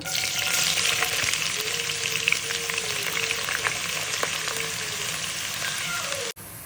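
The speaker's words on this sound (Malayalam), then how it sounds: "ആ ഒരു സവാള നമ്മൾ ഫ്രൈ ചെയ്തെടുക്കുക ചെയ്യുന്നുള്ളത്" Sliced onions fry in coconut oil for fish biryani, a steady dense sizzle and crackle holding even and close throughout, with a brief clunk near the end and no talking.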